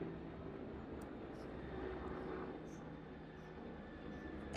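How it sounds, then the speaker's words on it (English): A helicopter overhead makes a steady, faint rumbling drone that holds level and does not fade, with no talking over it. "If you didn't hear, it's a helicopter."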